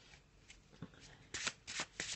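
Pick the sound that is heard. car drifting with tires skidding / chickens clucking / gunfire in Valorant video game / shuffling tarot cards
shuffling tarot cards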